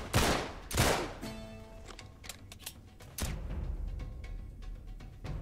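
Rapid bursts of gunfire in the video game Uncharted 3, several loud close shots at the start followed by scattered quicker cracks and rattling volleys, with no talking.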